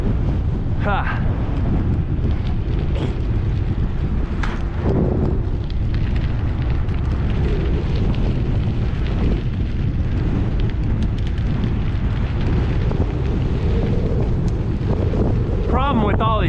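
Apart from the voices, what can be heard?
wind noise on microphone while cycling downhill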